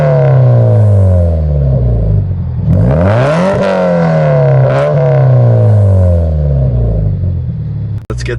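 Subaru BRZ with a custom equal length header accelerating hard, loud engine note climbing in pitch through revs, dropping at a shift, then pulling up again close by.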